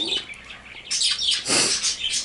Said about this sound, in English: My birds are doing that because I'm talking.